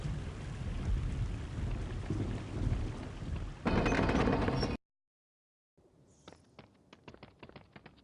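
Rain and thunder in a video game, a dense rain hiss with a louder rumbling surge, then abrupt silence before scattered sharp drip-like taps resume.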